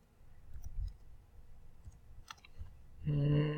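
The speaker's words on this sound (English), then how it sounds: "So you could see, you'll say on the TCR, it's dispensing." A Gunnebo Safe Recycler R7 TCR cash machine dispensing banknotes: faint mechanical clicks and ticks over a low hum, then a louder whirring feed with a steady tone near the end, close by and alone.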